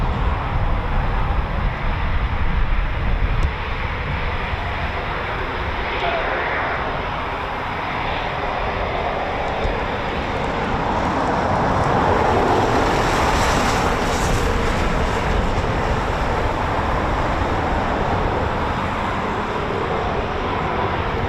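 Eurofighter Typhoon FGR4 jets departing RAF Coningsby, a steady, loud broadband roar that holds for the whole stretch and swells slightly toward the middle, with no voices.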